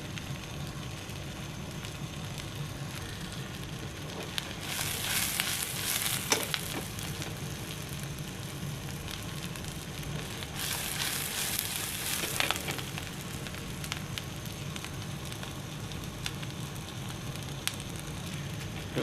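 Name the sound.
onion lightly frying in a pan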